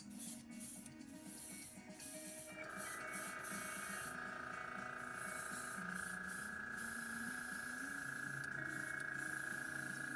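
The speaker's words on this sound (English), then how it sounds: "I always like to add a little bit of alcohol or a little bit of water to my brush" Airbrush spraying white undercoat paint for a Punisher figure build, a steady close hiss with a higher tone settling in partway and persisting to the end, accompanied by faint handling noises.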